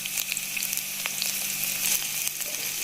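Two bay leaves and cut chillies fry in hot oil with ginger and garlic for chicken chilli, giving a close, steady sizzle dotted with small crackles and pops, with no speech.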